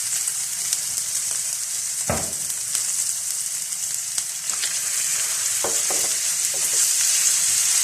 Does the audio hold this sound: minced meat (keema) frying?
yes